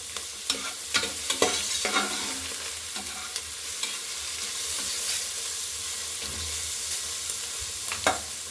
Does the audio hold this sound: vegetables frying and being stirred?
yes